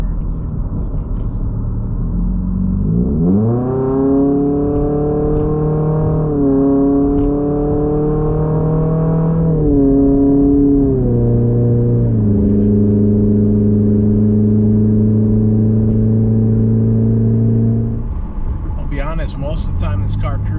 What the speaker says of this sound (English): Let's see if I can accelerate going forward and see what that sounds.